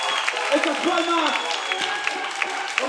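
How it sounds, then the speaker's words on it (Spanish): An audience claps along during a hip hop concert inside a prison, a steady patter of hands under a rapper's amplified voice and crowd noise in a reverberant hall. "¡Estas palmas!"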